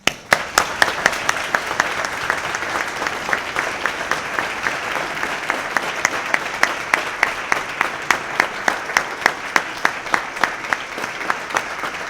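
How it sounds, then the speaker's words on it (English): Sustained applause at a law school welcoming ceremony, a large crowd clapping steadily and loudly, with a few sharper individual claps standing out at a regular beat throughout. "please join me in a warm round of applause"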